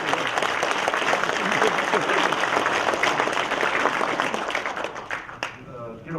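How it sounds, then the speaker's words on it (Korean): Sustained, dense applause from a crowd at a political rally, steady and loud for several seconds before thinning out into a few last claps near the end. "장뼈방송 김종환 씨한테 또 박수를 한번 드립니다"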